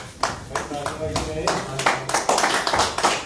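People at a party headquarters welcome new members with a brief round of clapping, close claps scattered at first and then thickening, with someone speaking over them.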